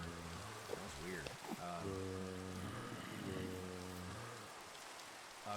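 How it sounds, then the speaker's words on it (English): Steady rain hisses in the video game Minecraft, a constant wash of patter with sustained tonal game sounds layered over it. "it sounds like it's raining"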